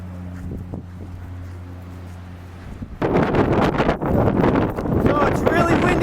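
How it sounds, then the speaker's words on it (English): Strong wind on a mountain in Hawaii: a low engine hum gives way to loud gusty wind buffeting the microphone, with rustling bursts continuing to the end. "So it's really windy."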